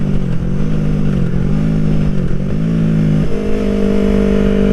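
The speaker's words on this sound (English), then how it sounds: "we've made some significant improvements to the feel of this bike" A Yamaha R3 sport motorcycle fitted with an aftermarket exhaust revs loud and close, its engine note rising and falling through several throttle blips before settling into a steadier, higher drone.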